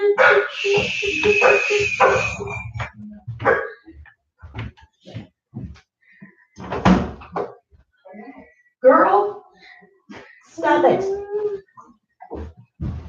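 A small dog barks, yips and whimpers in short bursts, close and fairly loud, with a person talking to it between and over the sounds.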